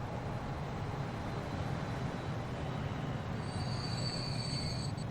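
Diesel freight trains roll along the tracks in the Transport Fever rail simulation game, a steady broadband rumble of rolling wagons with a faint high wheel squeal entering toward the end.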